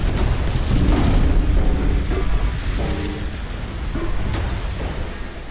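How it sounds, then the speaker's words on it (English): Booming naval broadside gunfire from warship battle gameplay set in 1890, a dense, loud wall of low rumbling blasts with overlapping thuds and no talking. "We're going full broadsides now."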